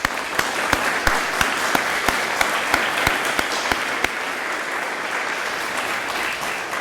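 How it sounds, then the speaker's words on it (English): A crowd at a school service-honoring program gives a sustained round of applause, a continuous wash of clapping with sharp individual claps popping out regularly before it gradually thins. "Please join me in giving them a round of applause."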